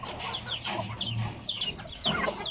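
Backyard hens wandering loose, giving a run of quick, close clucks and short rising squawks over a low steady hum, fairly quiet overall.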